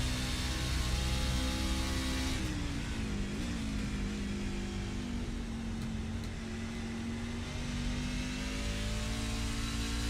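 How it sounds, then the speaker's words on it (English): Race car engine in iRacing, heard alone, droning steadily at mid pitch before easing off partway through, then settling into a lower sustained hum as the throttle comes on and off. "You can just hear when the engine's on and off."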